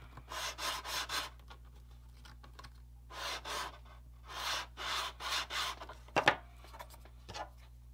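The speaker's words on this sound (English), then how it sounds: "Grab your sanding stick," A wooden ring piece for a barge slip model is sanded with a sanding stick, giving repeated rapid raspy strokes in several bursts separated by pauses, close and fairly quiet over a faint steady hum.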